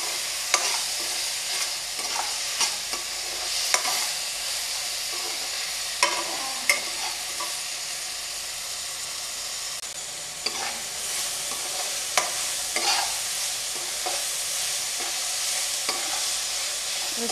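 Tomatoes with turmeric and salt cook in a pan, a steady soft sizzle with scattered clicks and scrapes of stirring throughout, fairly close and without voices.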